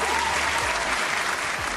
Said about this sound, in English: Round of applause for Zaya.